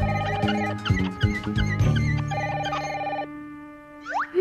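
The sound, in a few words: telephone ringing in cartoon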